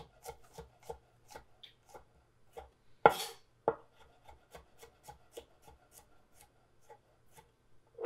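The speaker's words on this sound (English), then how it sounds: "Slice the garlic up. You could also mince it." A knife slicing garlic on a cutting board, a series of crisp, close taps in a loose rhythm with one louder knock partway through.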